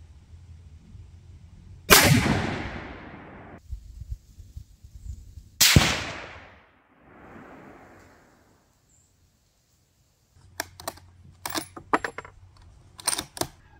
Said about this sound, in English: I'm gonna shoot twice at it to see where my shots are